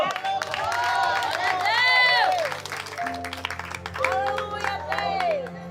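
Congregation applauding at a church service while a preacher's voice rises over them, the clapping blending with crowd noise and strong sung or shouted vocal tones throughout.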